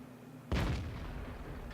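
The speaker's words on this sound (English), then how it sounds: "3 17-pounder guns, volley firing" Three 17-pounder tank guns fire a single heavy volley in World of Tanks, one sharp loud boom at the start followed by a long rumbling decay in a tank battle.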